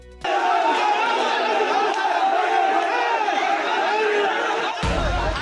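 A mob of about 200 people attacking an enforcement team: a dense roar of shouting and chanting voices, loud and sustained, cut off abruptly near the end.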